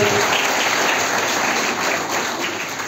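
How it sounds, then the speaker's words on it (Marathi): Dense, steady applause fills the space as an audience claps to welcome guests at a clothing distribution event in a tribal area, a continuous crackling patter. "सर्वांचे जोरदार टाळ्या वाजवून आपण एकदा सहर्षाचे स्वागत करूया।"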